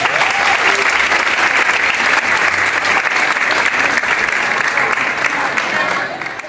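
Loud applause from a gathered crowd at a community news event in Chocó, a dense, even roar of clapping that holds steady for about six seconds before starting to fade at the end.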